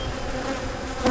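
Honey bees buzz steadily during a hive inspection of a split and a weak nuc, a close continuous droning hum with a slight swell at the end.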